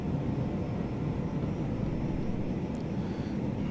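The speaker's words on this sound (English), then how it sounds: "Hardly felt that takeoff" A Phenom 100 jet climbing out after takeoff in the Prepar3d flight simulator gives a steady, loud, broad engine and air roar that does not let up, with no voices.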